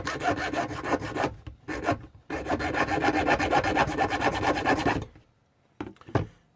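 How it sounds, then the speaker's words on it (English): Hacksaw cutting through metal on a custom motorcycle project, a steady run of close, rasping back-and-forth strokes for about five seconds, then a pause and a few short final strokes. "I'm actually cutting through with a hacksaw here"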